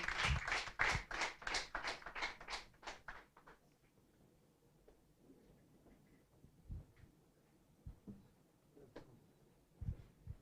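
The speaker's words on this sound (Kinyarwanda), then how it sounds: "Tumukomera amashyi." An audience applauds the top-scoring student in national exams at a results announcement, with a burst of fairly close clapping that dies out within a few seconds, followed by quiet room noise and scattered knocks.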